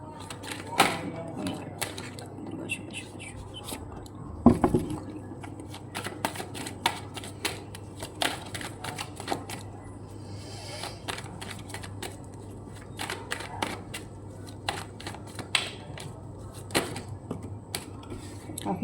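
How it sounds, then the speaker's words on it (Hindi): Playing cards being shuffled and dropping together in bunches, giving repeated soft riffling bursts and light slaps at close range over a quiet background, with no talk. "काफ़ी कार्ड्स एक साथ गिर रहे हैं"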